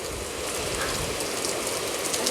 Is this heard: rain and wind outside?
yes